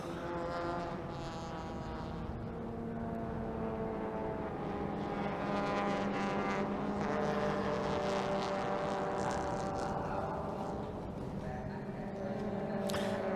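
Small race cars of the Thailand Super Series on a formation lap rolling toward the starting line, a dense, steady engine drone with blended tones under faint commentary.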